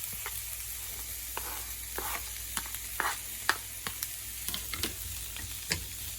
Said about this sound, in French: Mon huile est chaude, je vais y verser les oignons.